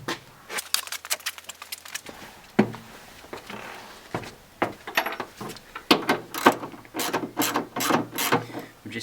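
Ratchet working on a custom bracket for a double seat, with irregular clicking bursts and clanks of tool and metal handling, close up and moderately loud, with no talking.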